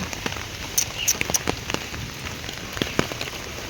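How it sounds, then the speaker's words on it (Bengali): Heavy morning rain falls on a muddy outdoor spot, pattering close and dense, with sharper individual drops tapping loudly, likely on an umbrella overhead. "ভালো জোরে বৃষ্টি চলে এলো"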